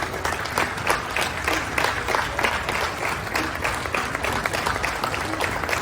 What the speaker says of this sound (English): The way you clap for me, come up and clap and clap and clap and clap.